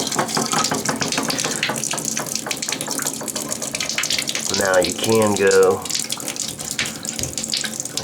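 Water runs steadily at low pressure, with the hot water shut off, from a Delta Monitor tub and shower faucet being repaired for a leak, a continuous broadband rush with a brief shift partway through, while someone talks over it.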